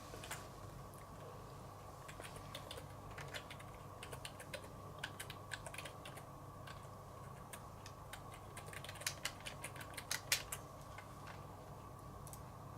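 Quiet typing on a computer keyboard while filling in a registration form: irregular runs of light key clicks with occasional louder taps over a soft steady hum, no voices.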